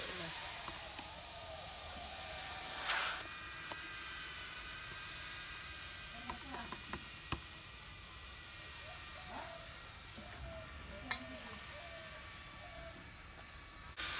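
Steam hissing from a pressure cooker while bhapa pitha rice cakes steam inside, a quiet, constant hiss with a few sharp clicks and faint background sounds.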